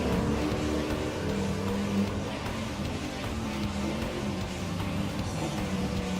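Classic race cars lapping Goodwood Motor Circuit in Gran Turismo Sport, a steady, dense engine drone of several cars at speed that stays even and moderately loud the whole time.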